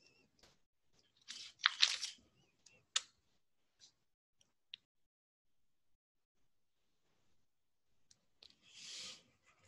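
A few sharp computer mouse clicks sound near and quiet, scattered singly between long stretches of near silence, with a brief soft rustle at the start and another near the end.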